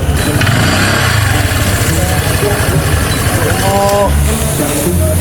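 A motorcycle engine idles loudly and close, a steady low chugging rumble with a brief rising rev near the end.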